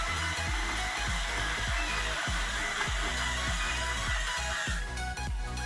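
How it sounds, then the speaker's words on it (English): The motor of a LEGO drawing machine runs with a continuous loud whir and a regular low thump repeating about twice a second, close by and with no voices. "I will just turn on the motor from this switch over here"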